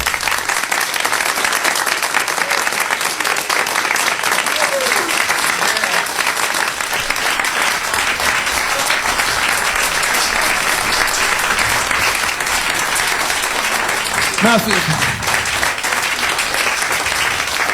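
A studio audience at XM Radio Studios in Washington DC gives Rick Wakeman long, loud, sustained applause, a dense continuous roar of clapping with a couple of brief whoops rising above it.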